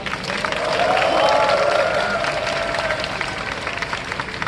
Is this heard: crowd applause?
yes